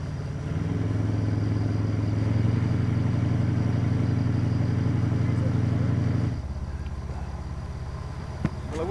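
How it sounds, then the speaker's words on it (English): A boat engine on the Mekong river drones loud and steady with a low throbbing pulse for several seconds, then drops abruptly to a quieter idle. "The revving engine soon sees to that"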